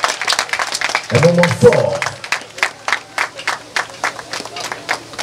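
Scattered hand clapping from a crowd at a presidential inauguration in Benin continues throughout while someone speaks briefly over it.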